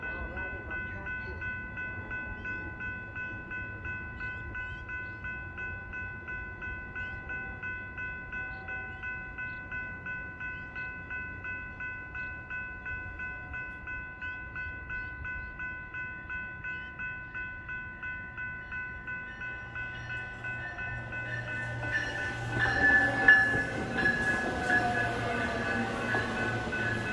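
RTD commuter rail train arriving at Commerce City station on the N Line, with a rhythmic pulsing steady tone and a sustained multi-note horn chord, then louder rumbling and squealing wheels as the train draws near in the final seconds.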